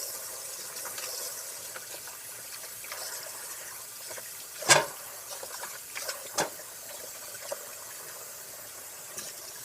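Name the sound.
washing celery under running water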